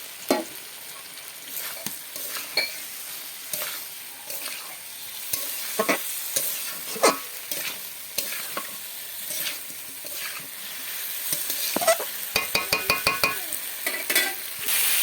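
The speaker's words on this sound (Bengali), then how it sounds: "ভাজা পটল দিয়ে দেবো" Fried pointed gourd is stirred into a spiced potato curry in a pan. Spatula scrapes and knocks keep a loose rhythm over steady frying, building to a fast rattling series of strikes toward the end.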